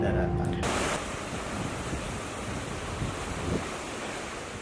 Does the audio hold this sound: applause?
no